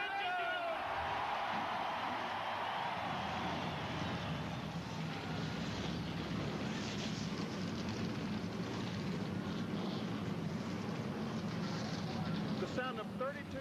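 Thirty-two stock car engines fire up and roar together at a 1991 night race before a crowd of 60,000, a dense, steady mechanical din with a voice talking over it throughout.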